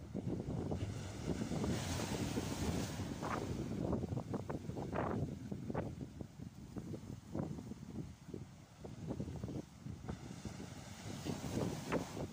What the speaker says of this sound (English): That wind's getting nasty again.